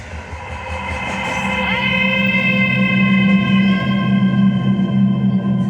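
A train rolls past close by near a railway station, with a steady loud rumble and a sustained metallic tonal whine that holds throughout without a break.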